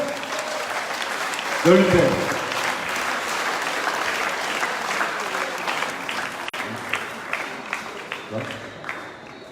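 Audience applause at a political rally for the A2PN in Martinique, a dense steady wash of many hands clapping that runs throughout at moderate loudness, with a brief voice and scattered individual claps near the end.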